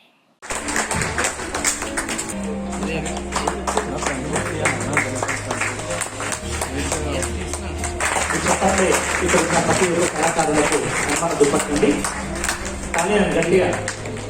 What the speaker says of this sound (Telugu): చప్పట్లు మాత్రం ఆగకూడదండి